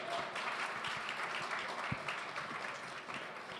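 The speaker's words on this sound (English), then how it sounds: "let's go ahead and give them a round of applause one more time" An audience gives a round of applause for panel guests at an industry event, a dense, steady wash of clapping held throughout at a fairly close, even level.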